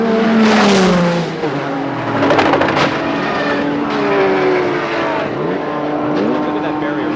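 A Porsche GT1 race car crashing at Petit Le Mans 1998, engines roaring and shifting pitch as cars sweep past on track, loud and close with rising and falling whines, while a commentator talks over the action.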